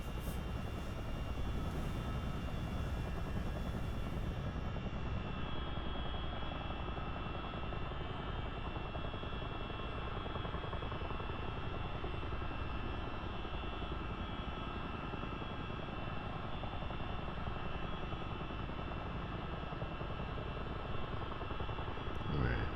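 Steady, loud drone of an aircraft engine coming in to land near a carrier, a constant rumbling whir with no breaks, heard close up inside the cabin over a thunderstorm ambience, with no talking.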